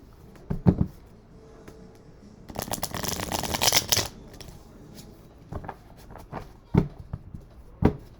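A brand new tarot card deck is shuffled close by, giving a dense burst of riffling card flutter in the middle, framed by scattered soft taps and handling knocks before and after.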